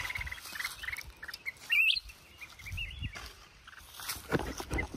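Wild forest birds, a pair, calling from a tree: a few brief chirps and one clear whistled call midway, set against outdoor rustling and low background noise.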